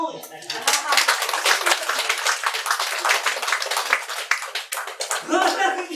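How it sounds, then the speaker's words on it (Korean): Audience clapping at a Buddhist sutra lecture, a dense burst of many hands that swells quickly and carries on steadily for several seconds before thinning out at the end. "박수"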